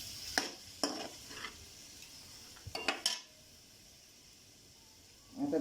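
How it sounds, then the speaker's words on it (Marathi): Tomatoes sautéing in a pan for pav bhaji, heard as a few short bursts of spoon scraping and clinking against the pan over a faint background sizzle, with quiet gaps between the stirring strokes. "आता आपण टोमॅटो टाकूया। छान परतून घेऊया आपण व्यवस्थित।"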